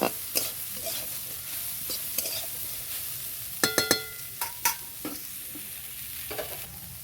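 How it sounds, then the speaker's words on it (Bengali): Vegetables are stirred and lightly fried in a pan, a soft background sizzle broken by occasional sharp spoon scrapes and clinks against the metal, some grouped in quick bursts. "এবার নেড়ে চেড়ে হালকা করে আমি ভেজে নেব"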